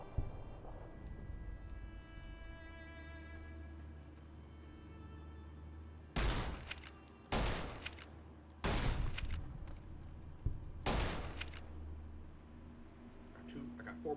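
Gunfire from a weapon in the video game Fallout New Vegas: four sharp, loud bursts of shots spaced a second or two apart, ringing against a quiet game background.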